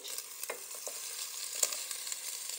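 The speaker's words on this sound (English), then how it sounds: "I'm going to add about a tablespoon or two of olive oil. And I'm going to add my Beyond sausage." Beyond vegan sausage fries in olive oil in a pan, giving a soft steady sizzle with a few sharper pops and stirring clicks, close and alone.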